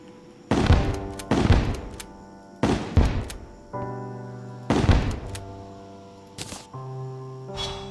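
Onyx Blaster firing in Terraria Calamity: a series of punchy, booming blasts with tonal ringing tails, roughly five or six shots spaced unevenly over several seconds, loud and alone with no voices.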